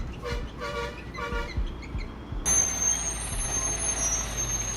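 A heavy truck rumbles nearby with a hiss of air brakes and a horn toot, its engine drone continuing loudly to the end. Turning a dangerous curve on a mountain ghat road beside a cliff.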